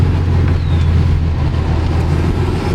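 A Subaru WRX takes a corner at about 30, giving a steady, loud, low engine drone with a faint tire and road hum and no voices.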